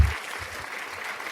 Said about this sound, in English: Give you a clap.